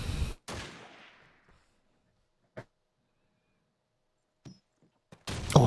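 Call of Duty 2 online match: a sharp grenade blast that rumbles and decays, then a few isolated distant gunshots and a final loud burst of fire, with near silence between.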